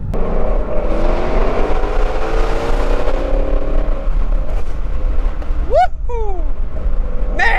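A Ford Mustang Shelby GT350R with its 5.2-litre Voodoo V8 revs hard in a loud, rising howl, then falls back before a sharp second blip of the throttle near the end.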